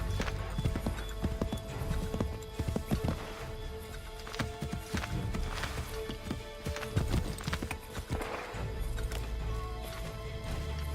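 Horse hooves clip-clopping in Assassin's Creed 3, a rhythmic run of hoof strikes on the ground with a whinny mixed in, heard alone without talk.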